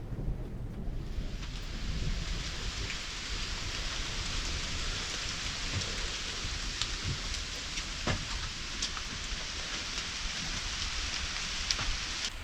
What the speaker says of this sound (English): rain doesn't seem to be letting up